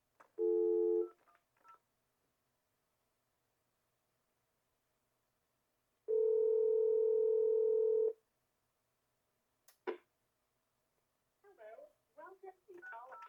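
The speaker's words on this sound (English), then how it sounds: "I'm going to call our extension 601 from an outside line." An outside line rings through an Excelltel MS208 PBX: a short steady tone, a pause, then a longer two-second tone and a sharp click, followed by brief quiet speech at the end.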